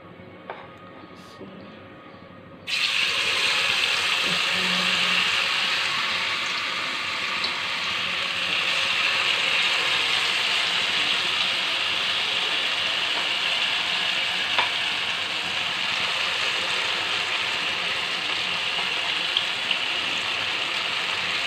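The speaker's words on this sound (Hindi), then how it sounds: "अब हम इसको निकाल लेते हैं और अपने भल्लों का बैटर डालते हैं इसको।" Bhalla batter drops into hot ghee and immediately breaks into a loud, steady sizzle of deep frying that holds unbroken and close by for the rest of the stretch, with no voices.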